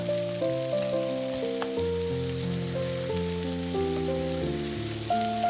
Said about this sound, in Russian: На разогретую сковороду выкладываем кусочки тыквы и обжариваем с двух сторон до мягкости и красивого золотистого цвета.